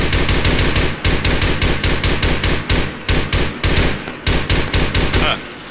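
Loud automatic rifle fire in Arma 3 during a co-op town assault, fired in rapid bursts with brief pauses between them, close and dominant throughout.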